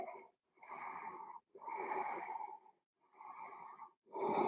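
Deep, slow breaths during a held yoga pose, several long airy inhales and exhales separated by brief silences, close and breathy with a slight rasp, no talking.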